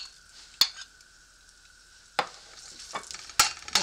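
Ginger frying in a pan, a steady sizzle with a sustained tone and a few sharp stirring scrapes and clanks, close and fairly quiet.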